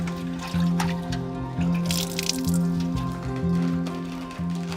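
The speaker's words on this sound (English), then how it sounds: "they rinse, dye, and wring out handfuls at a time." Wet dyed feathers for handmade shuttlecocks are wrung out by hand in an Indian village, giving close squishing and dripping water sounds over a low steady hum, with irregular wet squelches throughout.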